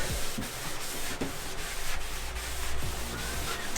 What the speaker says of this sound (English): I also wet a magic eraser. So I'll kind of scrub